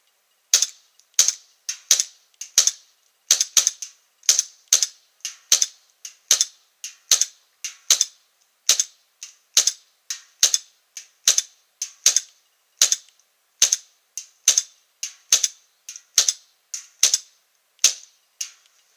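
Walther CP99 airsoft pistol by Maruzen/Umarex emptying a magazine: a long, steady run of sharp, snappy shots, roughly one or two per second, close and loud with nothing else heard.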